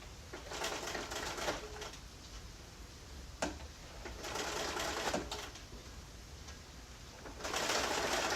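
A sewing machine stitches a slipcover closed, running in several loud sustained bursts separated by short pauses, close by and with no talking.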